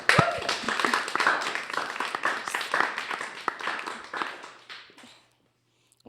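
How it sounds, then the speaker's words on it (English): Audience at a high school event claps for a broadcast class teacher, a dense burst of applause with individual claps standing out nearby, gradually thinning and fading to silence after about five seconds. "Let's give her a round of applause."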